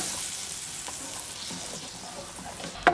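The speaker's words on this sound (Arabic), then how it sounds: "غادي ندير الزبده، ونخليها حتى كتذوب مزيان" Butter melts in a pan with a soft, steady sizzle and frying crackle, fairly quiet and close, ending in a short sharp clink.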